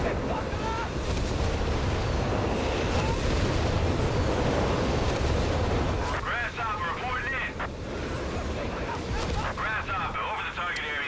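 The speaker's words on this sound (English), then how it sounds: "Nebel shots coming down." Nebelwerfer rocket artillery barrage in a Company of Heroes 3 4v4 match on a winter map, a dense rumbling roll of distant impacts and blasts under continuous commentary.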